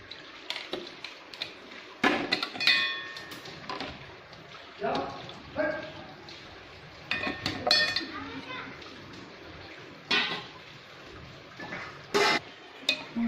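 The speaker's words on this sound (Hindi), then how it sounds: "इनको हम गैस ऑफ कर दें, इसको ऐसे छान लेते हैं।" Kitchen clatter as pots and utensils knock and scrape while boiled tomatoes are strained, with intermittent splashing and a voice talking alongside.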